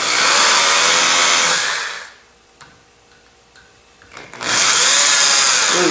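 A power drill pre-drills a hole in wood for a fleshing beam, whining loudly and close for about two seconds, pausing through a few quiet clicks, then whirring again.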